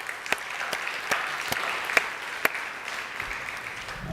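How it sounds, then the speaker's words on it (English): A school audience at a sixth and seventh grade academic awards ceremony applauds, a soft wash of clapping punctuated by several sharp, distinct claps standing out close by. "So another round of applause."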